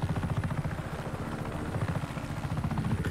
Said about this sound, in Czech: Musím přistát s vrtulníkem, ať ho můžu používat